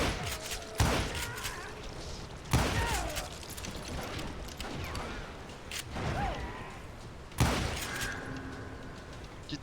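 Gunshots ring out in the Western shooter Call of Juarez Gunslinger, several loud sharp cracks spaced a few seconds apart with echoing tails and scattered background game noise between them.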